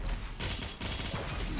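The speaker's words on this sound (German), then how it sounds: "Komm her, ich mach dich mit der guten alten Plasmakanone platt." Plasma cannon fire in DOOM Eternal: a dense, continuous barrage of rapid energy shots, loud and close, with a brief dip in the middle before the stream resumes.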